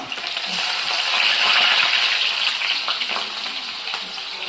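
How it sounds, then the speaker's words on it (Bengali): Chicken and onions fry in hot oil in a village-style kitchen, producing a loud, continuous close sizzle that swells and eases slightly, with no voices. "পিঁয়াজ দি পলাব লাগিব"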